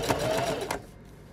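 A sewing machine runs a brief burst of stitching along pleated trim for a Victorian bodice, a close rapid mechanical whir that stops abruptly and leaves quiet.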